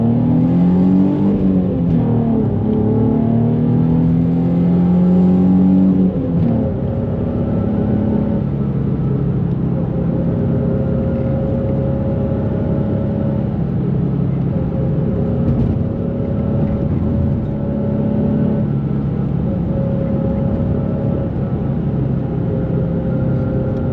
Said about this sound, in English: Very nice sounding car. It's got the Z1 exhaust, Z1 intake, JWT pop charger.